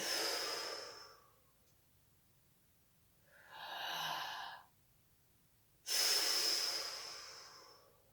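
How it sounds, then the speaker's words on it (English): Deep breaths in and out during a seated chair yoga relaxation exercise: a long airy exhale, a softer breath, then another strong breath, close to the microphone with no talking. "Last big breath in and out."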